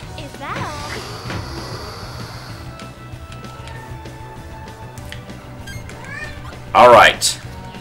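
A cat meows loudly near the end, with fainter mewing earlier, over a busy background of Baten Kaitos game sounds and effects.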